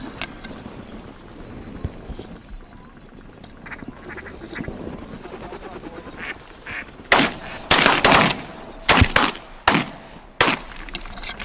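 Wild ducks call over a marsh during a mid-October hunt in Canada, with scattered quacks at first, then bursts of loud, close, harsh calling and wingbeat commotion toward the end.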